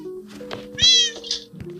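A small cat in a video game gives a short, high meow over a steady hum of game music, with a few soft taps around it.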